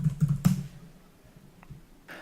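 Fast keystrokes on a computer keyboard, typing a command into a Scala console at a command prompt, come as a quick close burst of clicks at the start, then scattered lighter taps follow.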